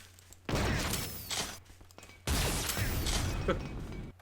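Two bursts of harsh, crackling flak cannon fire in Garry's Mod, each a second or so long with shattering debris, separated by a brief quiet pause.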